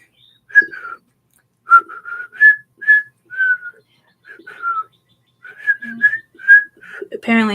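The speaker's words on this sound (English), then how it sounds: "Okay, I'm trying to whistle for you." A person whistles a halting, uneven tune in short separate notes with gaps between them, close by, ending with a brief voice.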